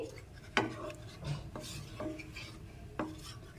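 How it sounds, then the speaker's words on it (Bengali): Milk powder being stirred into liquid milk for gulab jamun, a spoon scraping and tapping against the bowl in several sharp knocks between soft swishing, fairly quiet. "মিল্ক পাউডারটাকে এর মধ্যে মিশিয়ে ভালো করে গুলে নিতে হবে।"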